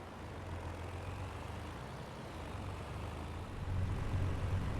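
Low, steady engine drone of a truck driving in Farming Simulator 22, faint and continuous, swelling slightly louder toward the end, with no talk.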